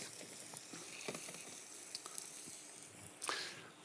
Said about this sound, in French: les côtes de blettes, elles, le but du jeu, c'est de les dorer un petit peu. Donc elles partent à la poêle